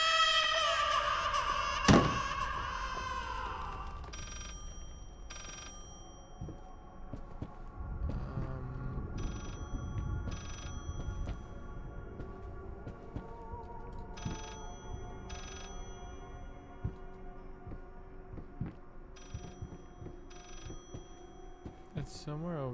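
Telephone ringing in a video game after a number is dialed, a bright tonal ring near the start followed by repeated ringing bursts over game sounds and background noise.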